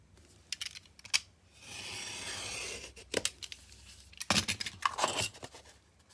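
Scissors cutting through paper journal pages, a sustained sliding snip followed by several sharp, close crunching cuts and paper rustles, loud and near with no voices.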